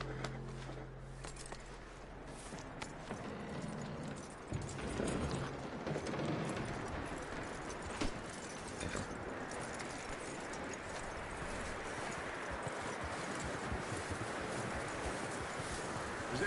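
Horse hooves walking over snowy ground in Red Dead Redemption 2, a steady clip-clop rhythm close by and fairly quiet under light ambient noise.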